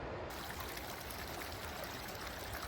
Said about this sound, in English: That creek is running well, and life is good.